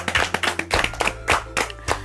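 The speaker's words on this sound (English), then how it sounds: "let's clap for ourselves for the trials" A small group clapping together in a Christian children's lesson, giving a quick run of sharp, fairly rhythmic claps close by, alone without talk.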